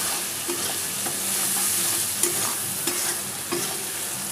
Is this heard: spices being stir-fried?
yes